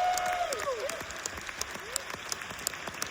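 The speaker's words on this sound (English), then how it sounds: "If you can give A24 a big round of applause." Sustained applause from a cinema audience after a screening, steady dense clapping throughout with no voices on top.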